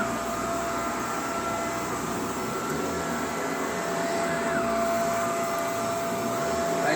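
A Shark vacuum cleaner, Rotator or Navigator Powered Lift-Away, runs continuously over freshly shampooed carpet with a steady loud whine and airy roar that hold an even level throughout.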